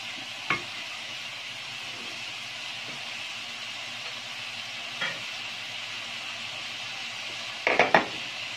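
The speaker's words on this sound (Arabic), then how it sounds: "دابا غندير كلشي ونخليهم كيتشحروا مزيان" Stuffing ingredients fry in a pan with a low, steady sizzle, broken by a few sharp clinks of a utensil against the pan and a short rattle near the end.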